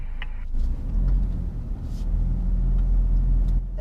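A Toyota Hilux SRX diesel pickup labors off-road in two-wheel drive, its engine giving a low, steady rumble that strains under load, with faint knocks and clatter over the drone.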